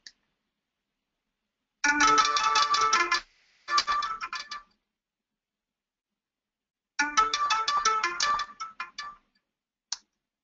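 A phone ringtone sounds for an incoming call on an IP telephony system, playing two bursts of a bright electronic melody, then a pause, then another burst and a short final blip, with no voices.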